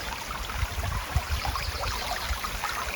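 Water streams steadily down over rocks beside a silo, a close, even, hissing rush with small splashes and gurgles throughout and no voices.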